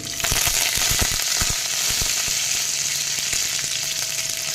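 Whole spices such as cumin, fenugreek seeds, cinnamon and dried red chillies sizzle in hot oil for a Gujarati kadhi tempering, a steady loud frying crackle with sharp pops and spatters throughout, no talk.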